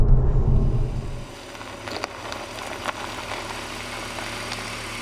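A VW T-Roc R engine and exhaust settle from a fading rev into a low idle, with a few faint sharp pops and crackles scattered over the quiet burble.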